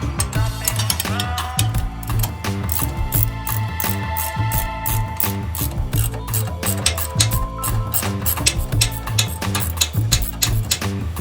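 A wrench ratchets steadily while transmission mount bolts are tightened on a polyurethane Energy Suspension mount, giving a loud, fast, even clicking close by over a persistent mechanical hum, with no speech.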